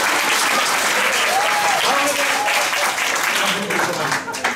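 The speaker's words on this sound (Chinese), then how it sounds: "来掌声。" An audience at an improv stand-up comedy show breaks into loud, sustained applause that fills the whole stretch. It fades slightly near the end, with voices calling out underneath.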